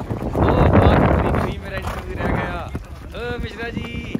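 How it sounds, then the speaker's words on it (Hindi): A horse bolting with its rider during endurance race training, a rush of rumbling hoofbeats and wind noise followed by excited voices calling out as it runs off. "ओ घोड़े को रोको, घोड़ा आपको भगा के ले गया।"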